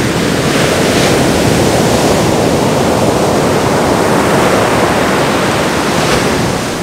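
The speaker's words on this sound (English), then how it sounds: "Ocean's rough, got big storms blowing in over my shoulder." Rough ocean surf pounds a beach as storms blow in, a loud, continuous roar of breaking waves with gusty wind buffeting close by.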